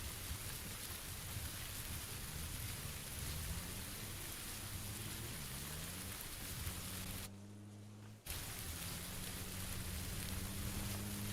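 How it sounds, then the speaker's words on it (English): Steady rain hisses across a PUBG battlefield, a dense wash of falling drops heard alone and continuous, with low engine-like tones drifting underneath and a brief near-silent gap partway through. "And the rain masks a lot of noise."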